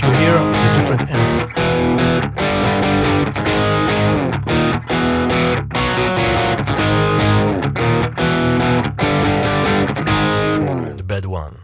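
Electric guitar played through Neural DSP Archetype Plini amp simulations, a heavily distorted, effects-laden tone with steady chugging chords and brief stops, loud and close for about eleven seconds before ringing out.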